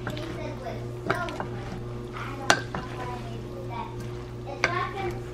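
Food seasoned with pepper and salt stirred in a pan, soft scraping strokes and light clinks over a low steady sizzle and kitchen hum, close by, with voices talking throughout.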